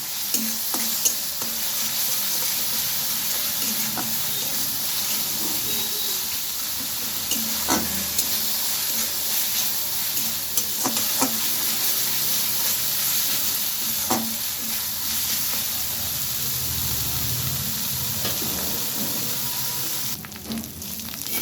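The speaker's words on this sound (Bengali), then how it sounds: "আমি এবারে মশলাটা খুব ভালোভাবে ভেজে নেব।" Cumin, coriander and turmeric powders fry in oil in a pan with a constant close sizzle, punctuated every few seconds by the scrape and clack of a stirring spatula.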